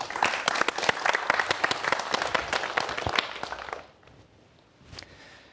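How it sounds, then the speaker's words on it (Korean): Audience applause at a lecture on artificial muscles and wearable robots, a dense burst of clapping from a crowd in a hall that fades out after a few seconds into a quiet room. "박수 부탁드립니다."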